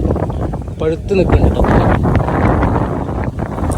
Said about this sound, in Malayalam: അപ്പോൾ കേരളത്തിൽ നല്ല കാറ്റടിക്കുന്നുണ്ട്.